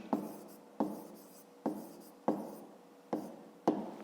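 Pen strokes scratch across paper while a maths solution is written out, six short scratching marks at a steady rhythm, close and fairly quiet.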